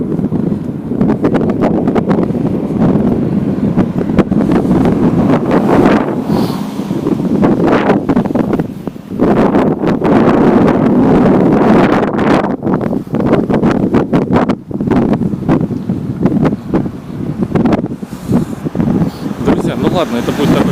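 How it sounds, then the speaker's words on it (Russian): Strong wind roars straight into the microphone outdoors in a steady, loud low rumble with gusting surges, while a person talks partly masked beneath it. "потому что ветер сильный и ничего не слышно, что я говорю"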